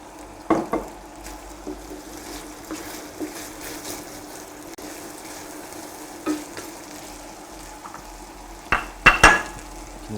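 Prawns searing in olive oil in a pan, a continuous moderate sizzle with occasional clatters of the pan and utensil, including a louder burst of clanks near the end.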